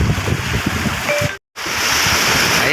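Sea waves wash against the shore with wind buffeting the microphone, a broad continuous roar broken by a brief total dropout midway before resuming at the same level.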